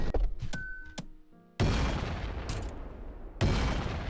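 Heavy, booming shots from the Slab Revolver in ULTRAKILL, two loud broadband blasts a couple of seconds apart, each ringing out, after some brief clicks and metallic clanks.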